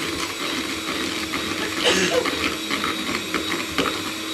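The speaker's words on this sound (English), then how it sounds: "the more you whisk it, the more it emulsifies, the more you get a lovely, shiny meringue mix" Meringue mix is whisked steadily in a kitchen, giving a continuous close mechanical whirring and rattling that stays even in loudness, with no speech over it.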